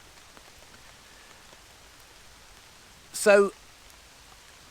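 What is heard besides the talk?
rain falling on a hammock tarp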